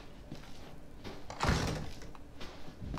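A door in the horror game Resident Evil 7 shuts with a single moderately loud thud and a brief rattle midway through, amid quiet ambient noise.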